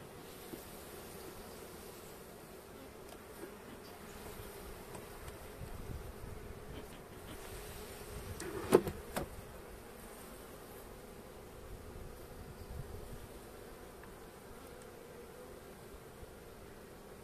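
Honeybees drone steadily from an opened hive in Trabzon in January, a low continuous buzz that stays even throughout with one brief louder burst midway; no voices are heard.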